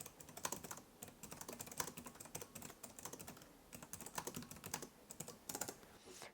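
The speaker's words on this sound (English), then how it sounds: "this is the Cherry MX per key backlight keyboard, and it has a nice sound to it" Fast typing on an Alienware m18 laptop's Cherry MX mechanical keyboard, close and crisp, a steady stream of clicky keystrokes alone with no talking.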